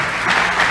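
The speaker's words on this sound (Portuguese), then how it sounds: "Uma salva de palmas para elas aqui" A congregation at a church service claps for a group of girls being honored, a dense steady burst of applause heard alone.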